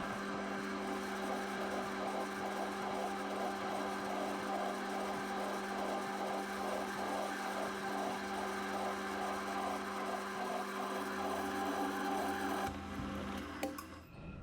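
A metal lathe drills with a 1 3/4 inch drill, a steady machine whine with a constant hum and rhythmic pulsing that runs for most of the stretch, then changes and tapers off near the end.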